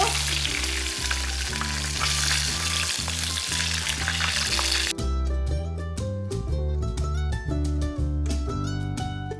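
Loitta, or Bombay duck, fish fry in hot oil in Cox's Bazar hotel style, a dense, close, continuous sizzle with bubbling crackle that holds loud throughout, with no talking.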